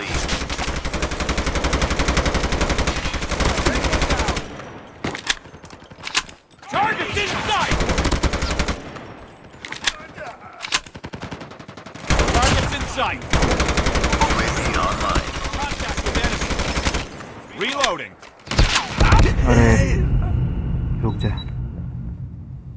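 Dense automatic gunfire from Call of Duty Mobile gameplay comes in long loud bursts broken by brief pauses, with rumbling effects and voices speaking over the shooting.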